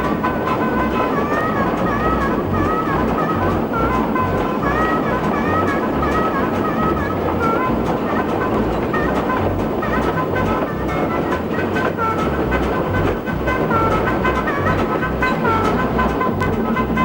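Restored Porter steam locomotive running on the Rainier Scenic railway, a loud continuous chuff and rumble with rhythmic clickety-clack of wheels over rails throughout, no talk.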